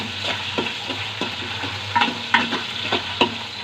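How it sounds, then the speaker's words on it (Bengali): Shrimp fry for fried rice in a pan over medium-low heat, with a soft steady sizzle broken by repeated spatula scrapes and knocks as the mixture is stirred close by. "মিডিয়াম মিডিয়াম থেকে একটু কম আঁচ যাতে চিংড়ি মাছ আর এটা ভাজা হয়ে যায়"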